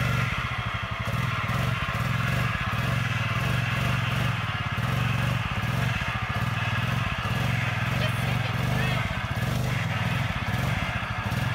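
A Honda Foreman ATV engine labors loudly and continuously in snow while winching, the throttle rising and falling, with voices talking over it.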